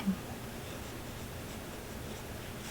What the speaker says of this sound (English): And then write in the days of the week.